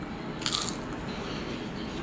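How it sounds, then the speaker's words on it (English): A single crunchy bite into crispy waffle fries, a short crisp crunch near the start against a quiet indoor background. "Oh my god, they're so crunchy."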